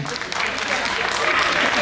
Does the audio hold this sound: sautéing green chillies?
no